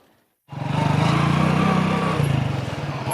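A small motorcycle engine starts up after a brief quiet moment and runs with a steady, close, rhythmic putter for the rest of the clip.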